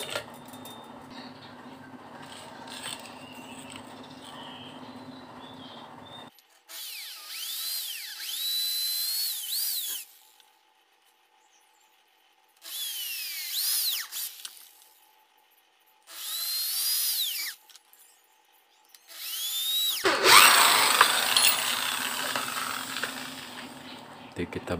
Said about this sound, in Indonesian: Kita lubangi ini buat dudukan konektor PL.